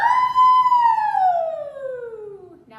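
A singer's voice imitates a siren during a belting warm-up, a single sustained pure tone sliding smoothly downward from high to low over nearly three seconds, clear and close.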